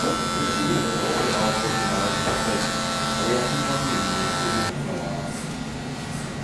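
Electric hair clippers set to a 1.5 guard buzz steadily up close while tapering a thick grey beard, then soften slightly near the end.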